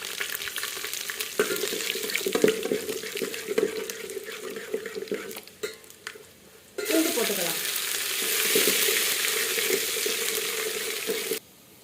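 Mustard seeds, cinnamon and dried chilli frying in oil on a wood-fired stove: a crackling, spattering sizzle with scattered pops, then a sudden loud surge of hissing that holds steady before cutting off near the end.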